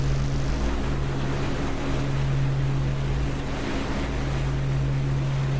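Aircraft engine in the DCS flight simulator game during takeoff, a loud, steady, continuous drone with a constant low hum that holds without a break throughout, no voices.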